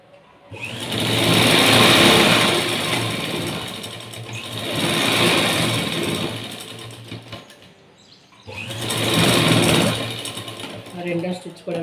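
A sewing machine stitches a straight-cut blouse in three loud, close runs of rapid whirring, separated by short pauses, with a voice speaking over the machine.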